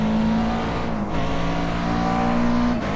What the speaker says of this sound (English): You kind of put the gas down and it sounds a little bit more flat